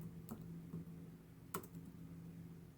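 A few sparse, light clicks of keys on a computer keyboard as a command is typed, quiet and close over a low steady hum, with no talk.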